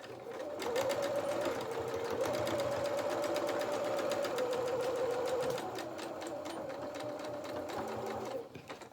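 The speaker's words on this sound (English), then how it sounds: "Got the death rattle on my bobbin as well. It's nearly out" Domestic sewing machine stitching a fabric toy body at a fast, steady rapid-fire clatter, with a rattling bobbin that is running low on thread, heard close and fairly quiet before slowing near the end.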